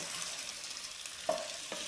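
Hot oil sizzles steadily in a pan as a tempering (tadka) cooks, a close hissing fry with a couple of brief stirring clinks near the end.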